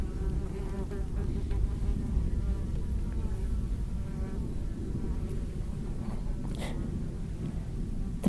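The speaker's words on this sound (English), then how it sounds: "The bees like them." Bees buzz in a forest, a close, continuous drone of several insects hovering and circling around, fairly quiet and steady throughout without speech.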